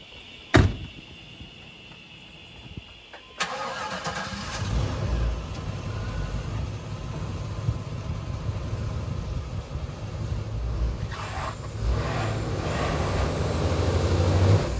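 A vehicle engine revs steadily as it drives up onto something, a sharp knock and a clunk coming first, then a continuous mid-pitched engine drone holding on with rising rumble.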